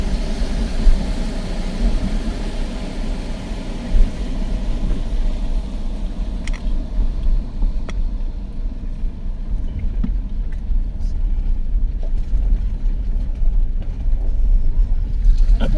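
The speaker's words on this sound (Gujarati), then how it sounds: "એ ગાડી નીચે ઉતરી ગઈ છે પાણીમાં." A vehicle in first gear crawls through a water crossing on a mountain route from Padum to Jispa, its engine a steady low rumble with churning water noise, continuous throughout and fairly loud.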